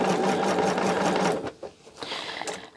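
A sewing machine stitches sashing onto a snow globe quilt block in a fast steady whir that runs strongly for about a second and a half, then stops, leaving softer handling noises.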